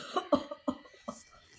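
A person imitates an old man's cough with four short, rough cough bursts spaced unevenly, close and fairly soft.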